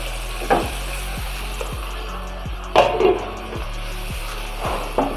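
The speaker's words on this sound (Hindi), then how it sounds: "अच्छा सा इसको भून लेंगे।" Boiled beef sizzling as it is fried in a pot for beef yakhni pulao, a steady close frying hiss broken by recurring stirring scrapes and clatters, with no talking.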